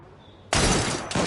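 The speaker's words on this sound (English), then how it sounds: "That sounded like a second gunshot." A gunshot in the Assassin's Creed Syndicate video game: a sudden loud broadband blast after a quiet start, followed by a second burst about half a second later, with no talk over it.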